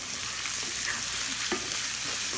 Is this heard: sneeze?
no